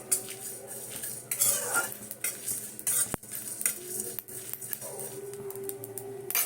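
Spice mix dry-fries briefly in a wok for potato chops while a spatula scrapes and clatters on metal. A quiet sizzle runs beneath the frequent utensil clinks and one sharp knock.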